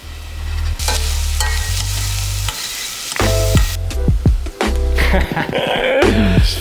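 Onions sizzling with salt in a pan, a steady frying hiss broken by repeated scrapes and clacks of a utensil stirring them.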